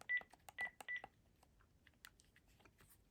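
Buttons on a Panasonic KX-PRS120 cordless phone are pressed, giving three short keypad beeps early on, followed by a run of quiet, uneven plastic clicks in a still room.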